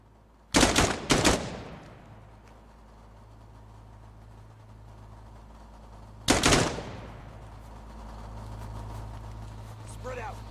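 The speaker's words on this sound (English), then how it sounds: "Come on. Keep shooting." Two loud bursts of rapid gunfire crack out in the video game Dagger Directive, one early and one midway, separated by a low engine hum, with voices speaking.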